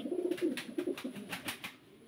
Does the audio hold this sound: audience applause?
no